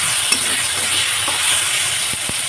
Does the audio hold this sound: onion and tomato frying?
yes